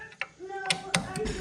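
A ratchet tightens a nut on a tubular control arm, producing a few quick, close mechanical clicks in a brief burst.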